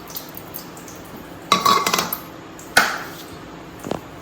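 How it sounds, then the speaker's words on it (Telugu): Spoon stirring onion and tomato in a cooking pan for a bitter gourd curry, a few sharp scraping clinks in two main bursts and a faint later tap, close and short. "ఇలా కలబెట్టి కొద్దిసేపు ఉడికించుకోవాలి మనం"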